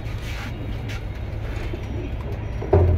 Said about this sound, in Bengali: বিগ সাইজের কয়েকটা মিলিটারি কবুতর দেখাবো জোড়া জোড়া